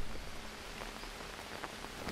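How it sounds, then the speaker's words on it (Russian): Rain getting heavier in the video game Green Hell, a dense steady wash of falling drops, loud and continuous with scattered sharper droplet hits. "Блин, дождик как усиливается"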